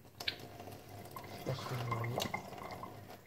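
Lukewarm water running from a tap into a nasal rinse device, a faint trickle with a few drips and light plastic knocks, close and quiet, no talk.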